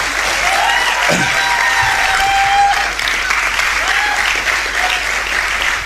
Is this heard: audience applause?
yes